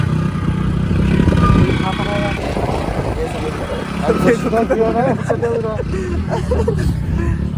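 An idling motorcycle engine, prone to stalling in the cold, rumbles steadily nearby while people talk over it, with traffic-like noise in the background.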